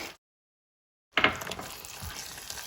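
Curd tipped into softened cooked tomato for a Goan egg biryani base, a sudden burst of frying sizzle with a few spoon scrapes after a brief silence, then a steady crackling hiss.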